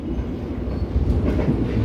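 A continuous close rumble from the Cikuray passenger train rolling through a level crossing, its wheels knocking over the rails in a dense, even clatter without any talk.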